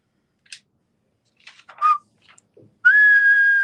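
A few faint clicks and short chirps, then a loud, sustained whistle rises and holds steady until the end.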